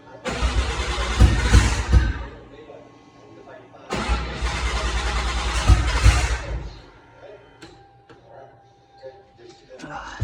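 A Toyota Aristo with a swapped 1JZ-GTE engine and 5-speed cranks twice, each time a loud churning start lasting a couple of seconds, followed by quieter clicks and rattles.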